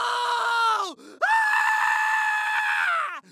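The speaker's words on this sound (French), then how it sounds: "les végétaux étaient capables de crier" A loud, long, wailing scream effect stands in for a crying carrot, in two drawn-out bursts separated by a short gap, heard alone with no talk.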